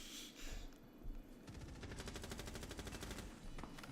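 Rapid bursts of automatic gunfire from a video game match, a sustained rattling stream of shots that is fairly faint and heard on its own without talk.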